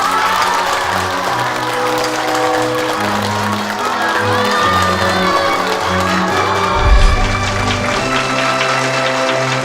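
A neighbourhood crowd applauds and cheers the newly elected first residents' committee director in a hutong community. Steady, dense clapping with some shouts continues throughout under a sustained musical score, with a low thump near the end.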